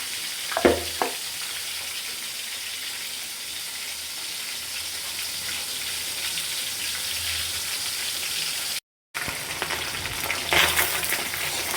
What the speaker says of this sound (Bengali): এই যে মাছের মাথাগুলো এখন খুব সুন্দর করে ভেজে নেব লাল লাল করে